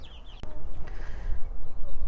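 Four-week-old chicks cluck and peep softly amid a busy background, with a sharp click early on and some faint chirps throughout.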